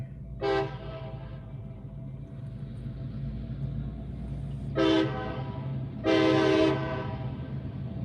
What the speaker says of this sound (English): Hopefully it's not a big train.